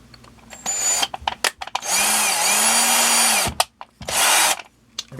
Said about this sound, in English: just drill right through it, reverse it on out